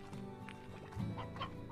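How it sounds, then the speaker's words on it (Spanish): Chickens cluck in Slime Rancher, a short burst of several close, busy clucks with no voices over them. "Te trajeron las gallinas"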